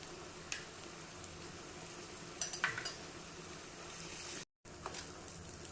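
Onion, green chili and ginger-garlic paste stirred in a pan for chicken liver fry, soft scraping and a few light metallic clinks of a spoon against the vessel over a faint background sizzle.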